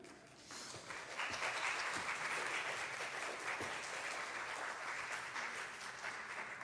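A church congregation at a Sunday worship service breaks into applause, a steady wash of many hands clapping at moderate volume that swells after a quiet start and holds with no talking over it.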